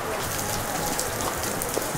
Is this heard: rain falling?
yes